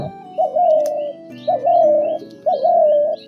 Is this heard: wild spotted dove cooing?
yes